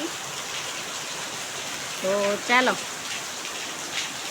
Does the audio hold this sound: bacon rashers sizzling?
no